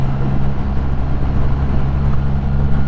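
A truck on the road behind a Kawasaki Z900 and Triumph Rocket 3 and T120 motorcycles, heard as a loud steady low engine drone and road roar that never lets up, with no clear voices.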